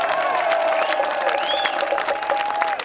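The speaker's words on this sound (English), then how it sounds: "Chris, give him a big round of applause." A concert audience at a show cheers and applauds for the band's keyboard player, dense clapping and shouts mixed with a sustained musical tone, whoops rising over the crowd noise.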